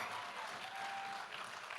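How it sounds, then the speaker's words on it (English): Steady audience applause at an interview event, a continuous dense clapping wash at moderate level with no talk over it. "please clap for this"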